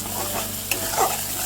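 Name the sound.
stirring spice masala frying in oil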